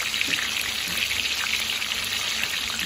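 Tilapia fish frying in hot oil gives a steady, dense sizzle and crackle throughout, close and fairly loud, with no talking.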